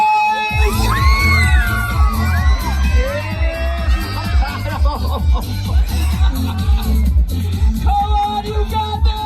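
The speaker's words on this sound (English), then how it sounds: "Let's cheer them on!" Crowd cheering and whooping at a watermelon eating contest, excited high shouts over a pounding rhythmic music beat, with voices calling out throughout.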